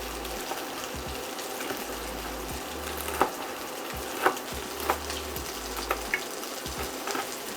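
Minced meat with onion and pepper frying in a pan, a steady soft sizzle with occasional small clicks and stirring knocks, close and fairly quiet with no talking.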